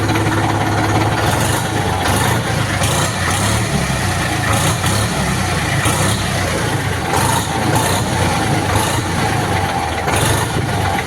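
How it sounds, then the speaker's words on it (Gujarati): A Kartar 4536 tractor engine runs loud and close, a steady heavy diesel rumble with no clear rise or fall in pitch. "અને હવે એન્જિનનો રિસ્પોન્સ ચેક કરો."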